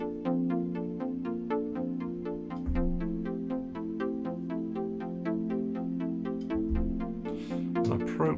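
A Moog One synthesizer playing a plucky split patch, a rapid run of short, bright plucked notes in a steady repeating pattern with a low sustained bass underneath, clean and close throughout.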